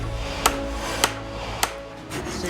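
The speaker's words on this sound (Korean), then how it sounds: "쐐기를 박을 때" A hammer drives a wooden wedge into traditional Korean hanok wood joinery, three sharp, evenly spaced strikes about half a second apart, close and distinct over a steady background hum.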